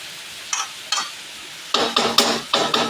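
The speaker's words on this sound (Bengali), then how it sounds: "এই যে সমস্তগুলোকে আমি আস্তে আস্তে নাড়িয়ে নিচ্ছি" Spoon scraping and stirring through chicken curry with potatoes in a pan, a few soft strokes followed by a quicker run of louder scrapes near the end, close and alone.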